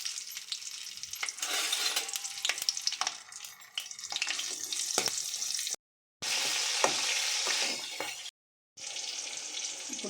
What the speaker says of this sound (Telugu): చింతాకు, పచ్చిమిరపకాయలు బాగా వేయించుకోవాలి.